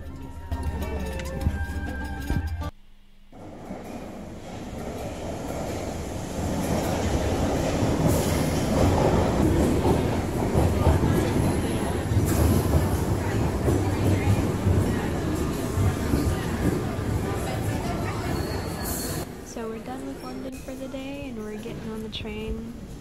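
A train in England rumbles steadily along with a broad, constant roar and some rattling, fairly close, after a brief quieter moment at the start.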